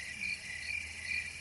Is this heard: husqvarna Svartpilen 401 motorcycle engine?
no